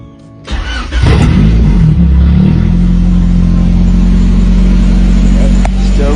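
An H22-powered Honda Civic with a loud exhaust cranks and fires up, then settles into a booming, throaty idle very close by, steady and loud throughout.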